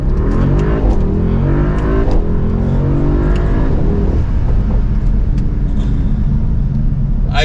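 A Mercedes-AMG SL 63 roadster's V8 engine revs hard and loud, its pitch climbing and falling in repeated surges under a constant heavy rumble.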